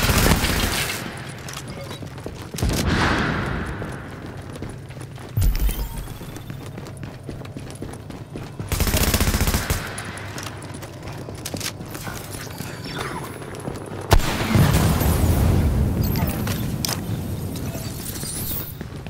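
Enemy gunfire in The Division, repeated loud bursts of shots separated by quieter gaps over a busy game soundscape.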